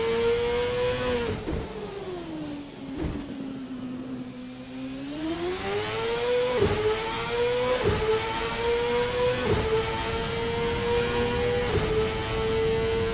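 A 1999 CART race car engine revs steadily through a turn at Laguna Seca in a racing video game, pitch dipping and climbing with sharp gear-change breaks, loud and continuous with no talk.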